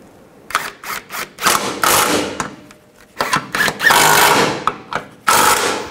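Bolts on the front lower control arm of a 2004-08 Nissan Maxima being snugged down with a tool, loud close bursts of mechanical whirring and ratcheting separated by short pauses.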